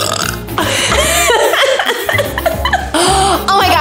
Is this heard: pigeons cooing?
no